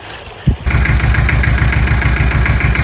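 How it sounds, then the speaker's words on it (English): A tractor engine runs loud and close while bush hogging through tall growth along a creek, a steady throbbing roar with regular pulsing beats that kicks in after a brief quieter moment. "I'm doing some extreme bush hogging"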